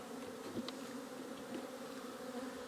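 Honeybees buzzing steadily around an open hive during an early spring inspection, a continuous close drone of many wings with no talk.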